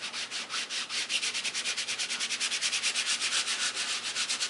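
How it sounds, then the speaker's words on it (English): Ink pad dabbed and rubbed repeatedly onto an embossing folder, Distress Ink craft work: a steady, fast series of soft scuffing strokes, close and alone with no talk. "So then just pad directly down to the embossing folder."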